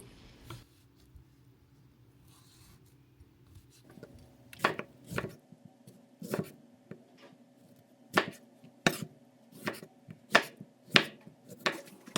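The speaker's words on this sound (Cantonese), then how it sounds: "將啲番茄切件" A knife chops tomatoes on a cutting board for a tomato tofu stew, giving a string of sharp, close taps that start sparse and then come quickly and evenly, alone over a soft background hum.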